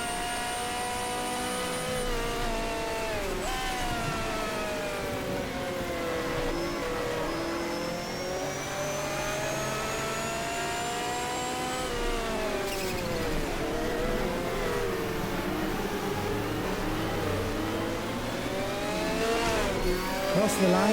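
A race car engine in the GTR2 racing game at Fuji Speedway revs continuously, its pitch sweeping up and down through gear changes and throttle blips, with someone talking over it.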